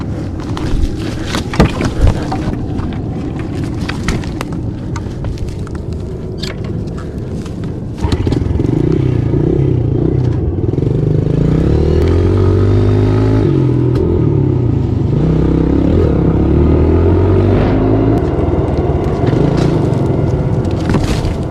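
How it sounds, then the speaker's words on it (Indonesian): A trail motorcycle engine revs loudly and close, steady and rough at first, then louder with rising and falling throttle under heavy wind noise. "Saat ia sedang menggeber motornya"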